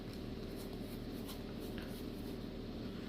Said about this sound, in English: Please excuse my shuffling